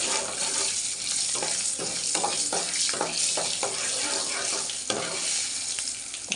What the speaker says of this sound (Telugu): తాలింపు ఫ్రై అవుతుంది కదా.